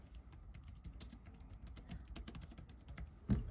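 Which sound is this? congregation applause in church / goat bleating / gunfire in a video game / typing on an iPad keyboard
typing on an iPad keyboard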